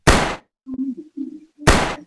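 Gunfire in the Minecraft-style zombie shooter Zumbi Blocks 3D: two loud, sharp, noisy gunshots about one and a half seconds apart, with faint voice-like sounds between them.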